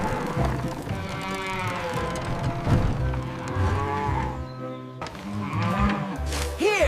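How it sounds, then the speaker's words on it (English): Cows moo on a cartoon-style farm, several drawn-out lowing calls overlapping against a busy, steady background, fairly close and loud throughout, with no talk. "Next stop, the cows."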